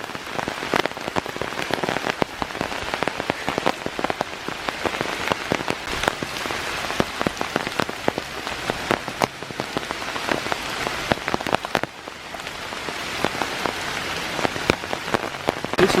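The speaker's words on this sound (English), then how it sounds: "It's raining really hard now." Heavy rain pours onto a forest trail at Iroquois Park, a dense, steady hiss of countless drops pattering on leaves and ground, loud and continuous with no voices.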